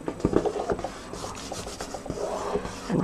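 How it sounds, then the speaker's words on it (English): Paper card is rubbed firmly down onto a glued base card while making a Stampin' Up! pull-tab card, giving close, continuous scratchy rasping strokes with no talking. "And rub that well down."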